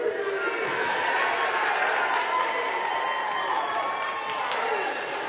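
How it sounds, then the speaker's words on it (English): Spectators at an Ohio Division II district high school wrestling tournament cheer during a third place match, a steady, dense crowd roar that stays loud and even throughout with scattered voices mixed in. "Some cheering for that third place match"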